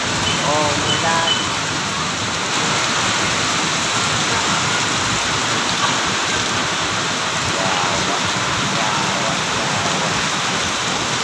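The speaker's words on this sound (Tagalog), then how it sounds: "Umuulan." Steady heavy rain pours down in Divisoria, a dense broadband hiss that continues unbroken throughout, with faint voices and street sounds mixed into the downpour.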